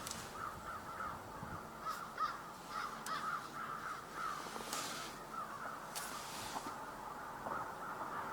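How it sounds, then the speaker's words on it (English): Many crows caw from a distance, short harsh calls repeating irregularly over a steady faint outdoor hiss. "You can hear a lot of crows in the area"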